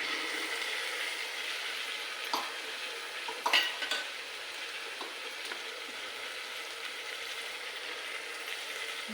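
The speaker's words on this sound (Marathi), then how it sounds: "हे सगळं आपण हलवून घेऊया पहिलं." Cauliflower and soybean vegetables are stirred in a hot pan, giving a continuous sizzle with a few scraping knocks of the spoon near the start and no talking.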